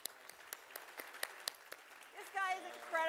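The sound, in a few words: audience applause, standing ovation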